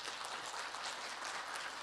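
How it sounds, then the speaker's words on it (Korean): An audience applauds steadily after a children's choir and traditional band performance at a Korean unification event, a dense continuous wash of clapping with no talking. "우리 철산초등학교 어린이들에게 감사의 박수 다시 한번 부탁드리겠습니다."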